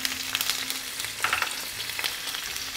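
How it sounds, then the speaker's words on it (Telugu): Paneer pieces and sliced onions sizzle and crackle in hot mustard oil in a pan, with scattered spatula stirs and a steady frying hiss throughout. "పన్నీర్ ముక్కలు కూడా నూనెలో బాగా వేగాలి"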